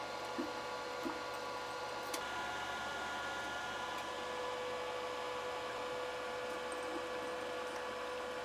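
A watch parts dryer runs with a steady mechanical whir and a constant high whine throughout, even and unbroken, humming nearby.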